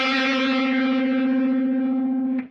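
Electric guitar run through an MXR 117 gray flanger emulation on a Line 6 Helix with the rate at maximum, one sustained chord shimmering with fast sweeping modulation, loud and alone, cutting off abruptly at the end.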